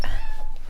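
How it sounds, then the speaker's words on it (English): A house cat lets out a close, drawn-out meow with a rising and falling tone, loud and clear in a quiet indoor room. "you might hear Bear meowing in the background"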